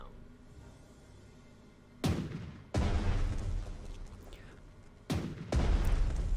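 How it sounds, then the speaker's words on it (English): Gunfire and heavy booms from attacking units in the Pacific War strategy game Strategic Mind: The Pacific, with loud bursts of firing at intervals over a low background rumble. "Devastating gunfire."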